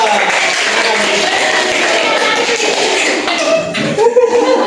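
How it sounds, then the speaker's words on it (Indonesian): A class claps for two students during a classroom team games tournament, a dense, steady patter of many hands filling the room and fading near the end, with a voice speaking briefly. "tepuk tangan untuk mereka berdua"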